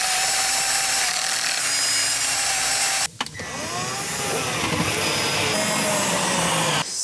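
A power tool drives a screw into a wooden board while a camper is fitted out in a Duster 4x4. A steady whirring runs close and fairly loud, cuts off abruptly, then starts again with a strained, wavering pitch.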